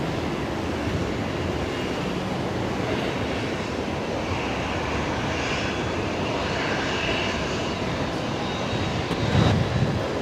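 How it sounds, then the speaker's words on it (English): Qantas 534 airliner from Sydney touching down at Brisbane Airport, a steady distant engine rumble and rush that stays moderate throughout, with a brief louder thump near the end. "we've got Qantas 534 just about to touch down here, coming in from Sydney"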